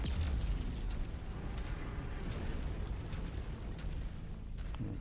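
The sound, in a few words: mech kicking small vehicles, explosions in video game MechWarrior 5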